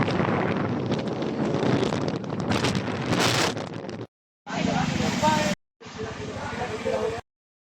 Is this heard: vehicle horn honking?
no